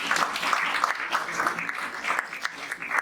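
Audience at a keynote lecture in Jamaica giving a steady round of applause, moderate and sustained, with dense clapping throughout and no pauses.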